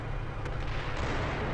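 Artillery shells pound in a military video game, a continuous deep rumble of blasts with a couple of sharper impacts near the start, loud and close.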